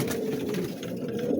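Pigeons coo steadily at close range in a loft of fancy coloured breeds, a continuous low warbling chorus with overlapping calls and no talk.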